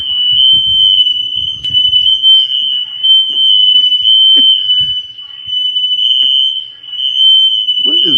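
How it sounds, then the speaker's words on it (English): A household smoke detector shrieks in one loud, unbroken, piercing tone while people talk and move about faintly beneath it. "Smoke detectors going."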